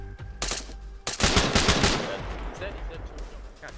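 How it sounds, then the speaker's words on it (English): Loud, close gunfire in the military shooter game Arma 3: a few sharp shots, then a rapid burst of automatic fire with a rumbling echoing tail that fades gradually. "I shot him through the wall"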